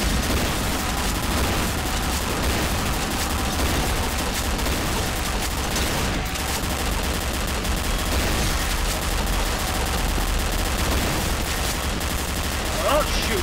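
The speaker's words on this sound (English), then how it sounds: "I'm shooting at the zombie" Continuous game gunfire in Garry's Mod, dense and loud throughout, with rapid shots blending into a steady wash of noise with no clear gaps.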